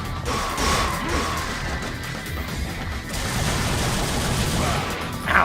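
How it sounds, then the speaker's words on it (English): Enemy shotguns blast during combat in Devil May Cry, giving heavy crashing booms over a busy rumbling background, with a final sharp hit at the end. "Ah, shotguns are the worst."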